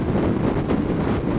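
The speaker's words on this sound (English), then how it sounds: "The wind is a lot stronger here because we're now sort of in the open" Strong wind gusts roaring across the helmet of a rider on a Ducati Multistrada 1200 in open country during a storm, a steady dense buffeting rush with no voice heard.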